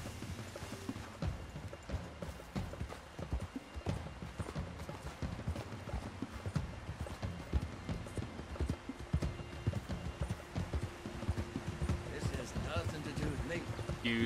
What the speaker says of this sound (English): I'm not leaving my horse out here in the wild